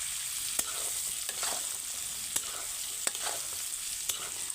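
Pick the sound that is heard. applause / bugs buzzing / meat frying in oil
meat frying in oil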